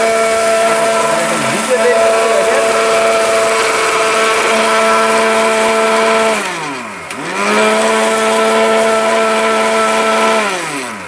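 A robot blender grinding cumin seeds, a loud, steady high-pitched motor whine that dips briefly in pitch around the middle before spinning back up.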